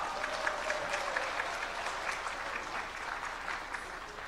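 An audience claps for a speaker at a security civic groups rally in a hotel ballroom, dense steady applause from a large crowd that carries on evenly before easing slightly at the end.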